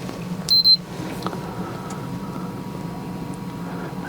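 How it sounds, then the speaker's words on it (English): Inside a Crown Vic police interceptor car, a short burst of high electronic beeps sounds once, then fades into a quiet cabin hum. "And something's beeping in here"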